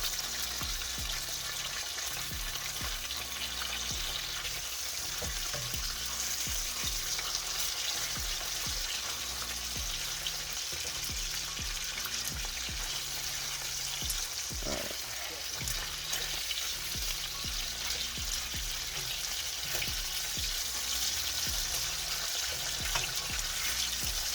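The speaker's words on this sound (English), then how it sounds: "now we go on to the bacon. Get a nice little bit of crispy there." Bacon frying in a pan until crispy, an unbroken dense crackling sizzle that stays loud and even throughout, with faint scattered ticks from the pan.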